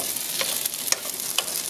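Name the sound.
gnocchi pan frying on high heat in brown butter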